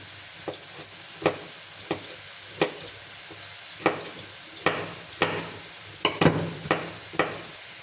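Diced colored bell peppers sizzle in a hot frying pan. A soft steady crackle runs beneath a series of sharp wooden clacks and taps from stirring, which come at irregular intervals and are close and fairly quiet.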